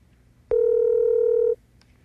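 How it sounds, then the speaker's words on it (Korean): A single steady telephone tone from a call that fails to connect sounds for about a second, loud and close, then cuts off into near silence. "여러 차례 전화도 하고 문자도 보냈지만 김장겸 전 본부장과는 연락이 닿지 않았습니다"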